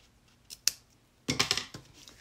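Scissors trim off excess ribbon: one or two sharp snips, then a quick burst of crisp cutting strokes, close up and quiet.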